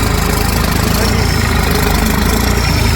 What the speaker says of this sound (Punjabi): ਟਰਬੋ ਟਰੈਕਟਰ ਹੈ ਟਰਬੋ ਲੱਗਿਆ ਹੋਇਆ ਨਾਲ ਦਾ ਕੰਪਨੀ ਦਾ